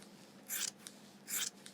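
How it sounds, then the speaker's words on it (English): Scissors cut fabric along the fold for a reversible poncho, two crisp snips about a second apart, each followed by a faint click, close and quiet. "To cut along the fold, simply put your scissors in,"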